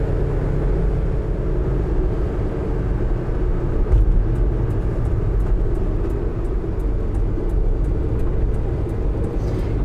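A 2011 Mitsubishi Minicab 4WD kei truck (U62T) driving, a steady loud engine and road rumble heard from inside the cab, with a faint regular ticking joining in over the second half.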